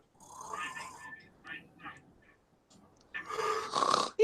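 A person's voice imitates an airplane mixed with snoring: several short nasal, droning bursts separated by pauses, then a louder rasping snort at the end, heard close in a quiet room.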